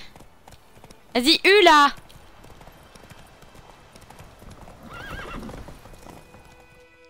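A horse in The Witcher III game gives a loud, close whinny early on, followed by quieter clip-clop of hooves and a fainter second neigh, while someone speaks briefly.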